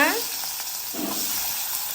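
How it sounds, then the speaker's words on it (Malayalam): Onions hiss and sizzle loudly in hot oil, a continuous close crackle with a brief scraping stir partway through. "അതിലേക്ക് നമ്മൾ ഉള്ളി ഇട്ട് കൊടുക്കുവാണ്"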